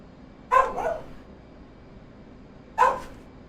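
A dog barks at the neighbours opening their garage: a quick double bark, then a pause of about two seconds and one more sharp bark, fairly close over a quiet room hum.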